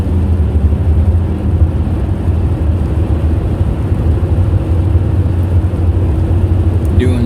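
A rear-wheel-drive car cruises at around 60 mph down a winter road in Minnesota, heard from inside as a loud, steady low engine and tire rumble with constant road roar throughout, no talk.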